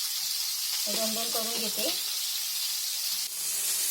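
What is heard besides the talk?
crab frying on a tawa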